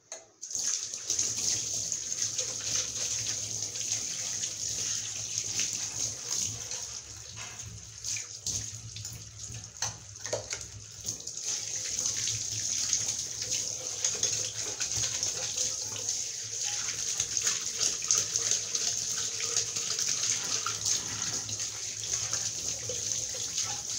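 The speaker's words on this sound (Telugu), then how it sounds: "ఇప్పుడు నేను వాటర్ తో కడిగేస్తున్నాను" A stainless steel box gets rinsed under a running tap, with water gushing and splashing loudly and continuously against the metal, its flow shifting slightly as the box moves under the stream.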